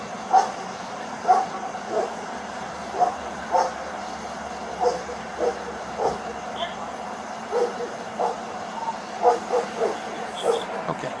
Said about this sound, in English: Do you have a dog in your car?